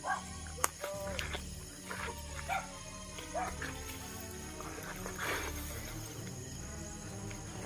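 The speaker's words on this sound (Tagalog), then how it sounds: "Maingay kasi yung aso ni Pilimon." A dog barks and yips in a few short bursts outdoors, fairly faint and distant, mixed with background voices and ambient noise.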